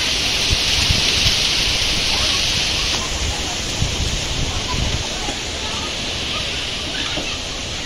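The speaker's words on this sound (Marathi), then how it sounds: "पाऊस लागला पडाय." Steady rain falls over a Konkan village during an unseasonal downpour, a dense, even hiss that holds loud and constant throughout with a few heavier splashes near the start.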